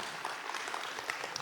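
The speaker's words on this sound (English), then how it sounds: "you're going to clap for lawyers suing" Audience applause at a talk on religious liberty and lawsuits in Illinois: a brief, fairly faint burst of scattered clapping, thin and patchy rather than a full ovation.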